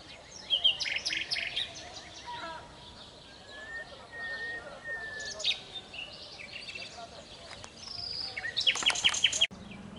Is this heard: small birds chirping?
yes